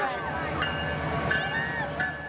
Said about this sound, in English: Usually, the Canadian Pacific Holiday Train passes through the area without stopping.